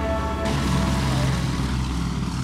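Piston engines of a Boeing B-17 Flying Fortress at AirVenture drone loudly and steadily, the engine sound shifting to a broader roar after a brief moment.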